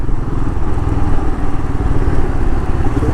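A Royal Enfield Himalayan motorcycle cruises along the Kanakapura Road highway, its engine a loud, close, steady thumping rumble with wind rush and no pauses.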